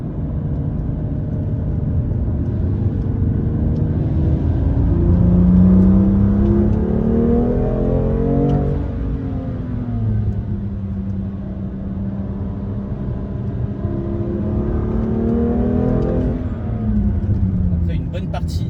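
A BMW M biturbo car accelerates on a race circuit, the engine note sweeping upward repeatedly as it pulls out of corners, with a voice talking over the steady drone.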